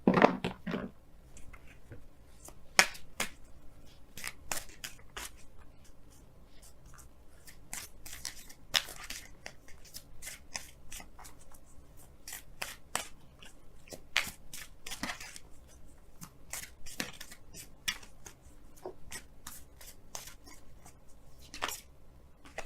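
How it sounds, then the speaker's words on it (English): Romance Angels tarot cards are shuffled and pulled from the deck, giving close, crisp riffling and sliding snaps that come in irregular bursts, with soft rustling and handling noises between them and no talk. "let's go ahead and pull your Romance Angels cards for this week"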